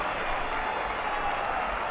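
Steady applause from a ballpark crowd at a 1970 Dodgers vs Phillies baseball game at Dodger Stadium, a dense continuous patter of distant clapping that holds evenly throughout.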